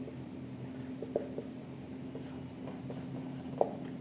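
Pen writing a bank account debit entry in an accounting notebook, faint steady scratching with a few light taps, close and quiet, no talk.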